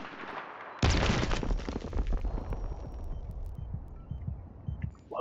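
A grenade goes off in the shooter game Battlefield 3, a sudden loud blast followed by a long rumbling, crackling decay that fades over several seconds.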